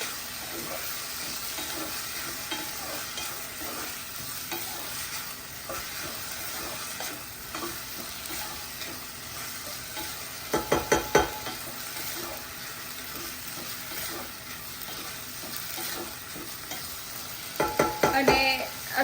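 Rice fried in ghee for kaju paneer pulao, a steady low sizzle with a spoon scraping and stirring through it, and brief clusters of louder scraping strokes toward the middle and the end.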